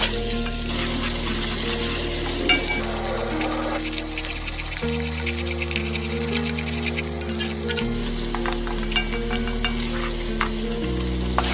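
Sliced medium onions sizzle and fry steadily in a pan, with occasional stirring scrapes and crackles, close and continuous without speech.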